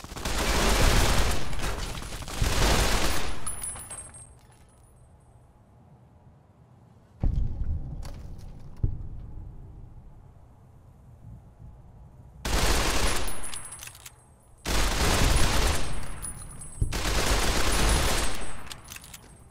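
Loud bursts of rapid automatic gunfire in Fallout: New Vegas, several sustained volleys of a few seconds each separated by quieter pauses, with a couple of isolated single shots in between.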